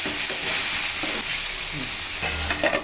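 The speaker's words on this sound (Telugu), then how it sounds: "మీడియం సైజు ఒక మూడు టమాటాలు వేసుకోవాలి అంతా ఒకసారి మిక్స్ చేసుకోవాలి" Brinjal and potato curry with three medium tomatoes and turmeric sizzles loudly in a pan while being mixed, a dense, steady frying hiss with stirring strokes close up.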